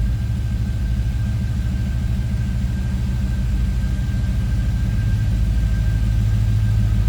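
A 1968 Chevrolet C10 pickup engine idles with a deep, steady exhaust rumble close by, continuous and unchanging.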